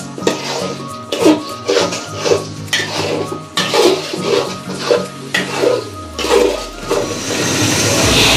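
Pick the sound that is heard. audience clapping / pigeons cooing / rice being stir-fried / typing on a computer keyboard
rice being stir-fried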